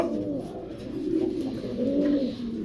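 Fancy high-flying pigeons cooing close by, a low warbling coo repeating in soft rising and falling phrases over a faint background hiss, with no talking.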